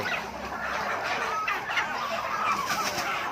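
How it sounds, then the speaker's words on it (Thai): Chickens cluck and chatter at a village poultry market on a border trading ground, a steady, busy flock sound close by with dense overlapping calls and no speech. "อันนี้ครับผมพี่น้องตลาดไก่"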